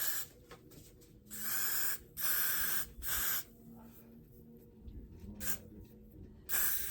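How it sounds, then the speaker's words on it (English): Got To Be hair spray misted onto a lace front wig in several short, loud hissing bursts with pauses between them, close to the microphone. "so now we're gonna take Got To Be, and we're gonna spray it."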